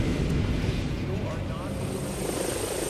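Flying drone in the video game Batman Arkham Origins, a continuous whirring rotor hum held at an even, fairly loud level throughout.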